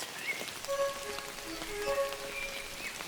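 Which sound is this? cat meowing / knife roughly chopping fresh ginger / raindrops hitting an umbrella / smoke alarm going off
raindrops hitting an umbrella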